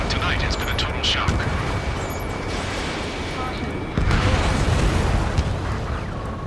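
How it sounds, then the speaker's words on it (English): Dense, rumbling video game battle noise from Ace Combat 7: Skies Unknown, with continuous gunfire, heavy explosions and roaring jets, a loud wall of sound that swells louder near the end. "Gunfire and the roar of jets echoing through the streets."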